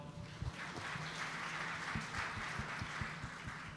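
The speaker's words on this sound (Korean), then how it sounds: "박수로 맞아 주십시오" Audience applause at a Korean professional baseball awards ceremony, a steady wash of clapping from a crowd held at moderate, even loudness for several seconds.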